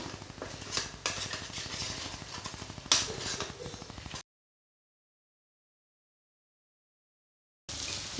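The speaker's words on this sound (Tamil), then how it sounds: "லைட்டாக கிண்டி விட்டுலாம்" Egg noodles with vegetables are stirred in a pan, making steady scraping and metallic clinking for about four seconds. The sound then cuts to silence and returns briefly at the end.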